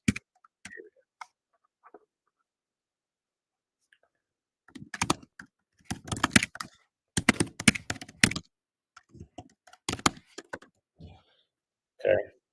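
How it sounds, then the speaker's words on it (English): Typing on a computer keyboard comes in sharp, close bursts of rapid key clicks with quiet gaps between them, plus a few isolated taps and a brief voice sound near the end. "So I'm typing this in"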